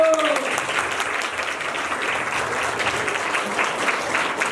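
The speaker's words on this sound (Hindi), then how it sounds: "ताली बजाओ बच्चों।" Children clap together at an award ceremony for a blind association, a steady, moderately loud patter of many small hands with faint voices underneath.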